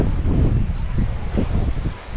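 Strong wind gusts buffet the microphone on a coastal walk out to Trevose Head, a loud, uneven rushing roar that swells and dips throughout.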